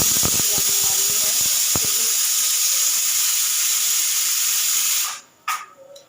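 Loud continuous hiss of steam escaping from a pressure cooker, with a few clicks at the start, cutting off near the end into quieter noises.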